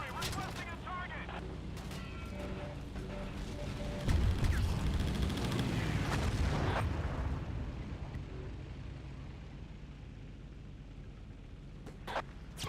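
Battlefield 1942 artillery explosions boom and rumble, with a heavy swell of blasts midway over scattered gunfire and crackling shots, and radio-style voices speaking in places.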